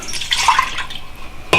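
A cup of chicken broth is poured into an Instant Pot DUO60 6-quart bowl, a short close splashing trickle of liquid followed by a sharp clink at the end.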